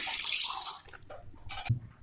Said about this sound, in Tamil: நம்ம வந்து கடாயை கழுவி 1 கிளாஸ் தண்ணி ஊற்றிருக்கோம்மா